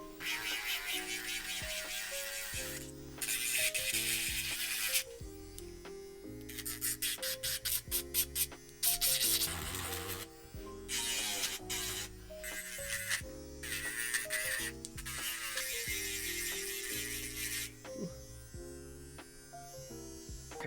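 An electric nail file whirs against freshly applied acrylic nails in repeated bursts. The buzzing whine rises and drops in pitch as pressure changes, and it runs close and steady for about twenty seconds.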